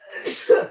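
A single short sneeze bursts out indoors, close and fairly loud, during a tabletop game session, set among people talking.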